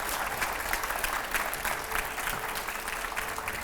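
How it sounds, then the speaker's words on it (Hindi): Steady applause from a crowd at a Hindi political interview event, dense clapping that fills the whole stretch evenly at moderate loudness without a clear peak. "पहले तो जोरदार तालियां हो जाए इसके लिए एक बार"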